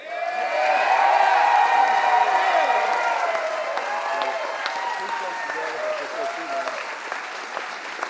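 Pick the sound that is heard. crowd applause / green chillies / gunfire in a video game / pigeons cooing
crowd applause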